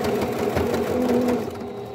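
A sewing machine stitching along the edge of a homemade N95-type fabric mask, its steady rapid needle chatter running close and continuous with no voices.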